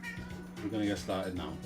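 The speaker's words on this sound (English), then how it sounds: "That's my cat." A female house cat meows a couple of times in short, moderately loud calls, partly overlapping someone talking during a home live stream.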